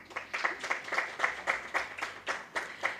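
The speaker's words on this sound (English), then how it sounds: "Can we give her a round of applause?" Audience applause at a panel discussion on AI governance in Tanzania, a light, rhythmic clapping with regular peaks, fairly faint and steady throughout.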